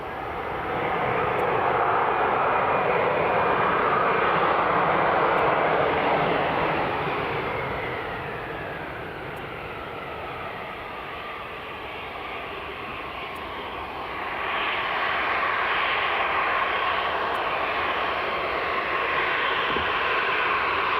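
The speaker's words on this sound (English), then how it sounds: "EasyJet just touched down" An EasyJet airliner touches down on the runway at Edinburgh Airport, a loud sustained jet roar that eases through the middle and then swells again, with no talk over it.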